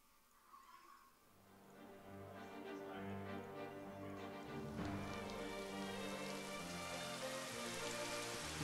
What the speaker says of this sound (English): Now it's raining, and we're outside again.